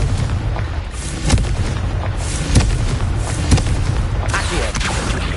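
Confringo fire spell explosions in the Hogwarts Legacy game, several booming blasts spaced over a few seconds against a dense, rumbling battle background.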